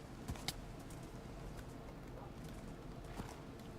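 A horse's hooves clip-clopping in Minecraft: faint, scattered hoof taps over a low ambient background, a few soft knocks near the start and one later.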